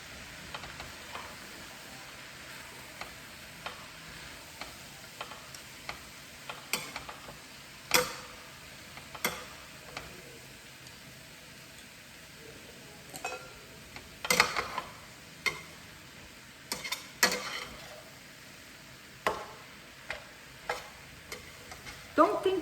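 Cabbage being cooked in a pan while chopsticks stir it, giving soft sizzling with scattered light clicks and scrapes that come and go, fairly quiet and with no talking.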